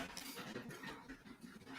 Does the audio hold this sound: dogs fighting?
yes